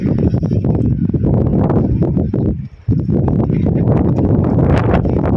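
Strong sandstorm wind roars across a rooftop in Libya, a loud, steady buffeting broadband rush with a brief lull partway through, wind hitting the microphone throughout.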